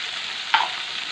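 Fish curry with salt and turmeric fries in a pan, a quiet even hiss broken once by a single short scrape of a spatula stirring.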